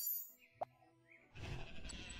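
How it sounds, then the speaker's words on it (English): Sheep in the video game School of Dragons gives a single short bleat over quiet game ambience, followed by a louder burst of soft background game sound. "This is a sheep."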